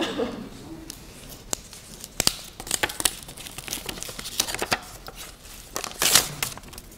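Paper envelope being torn open by hand, a series of short crisp rips and crinkles with a louder tear near the end, close up in a quiet room.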